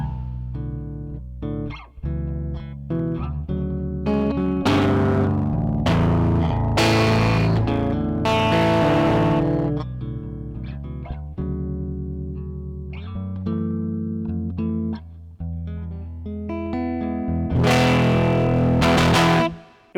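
An electric guitar played through a JHS 424 Gain Stage distortion pedal rings out with gritty chords and picked notes, some strummed hits loud and sustained and others clipped, with short pauses between phrases and no talking.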